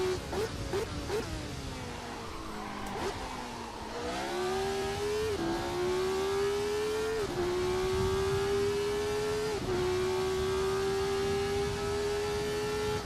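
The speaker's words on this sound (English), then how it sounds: "This has got the 1970s Formula car engine in it." A 1970s Formula car engine in the Assetto Corsa racing sim screams loud and steady, rising through the revs with a few sharp upshift dips and a long sustained high-rpm drone.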